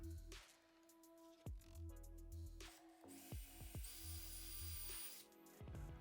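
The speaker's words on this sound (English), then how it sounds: "I started off with the smallest bit, drilling a hole all the way through both parts." A power drill with a small bit whines in short bursts boring through wood, revving up and winding down several times at close range, with faint clicks and handling noises between runs.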